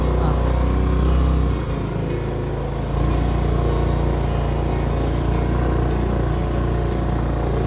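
A motorcycle climbing a steep hill road, its engine droning loud and steady near the rider with wind rumble, easing briefly before pulling on.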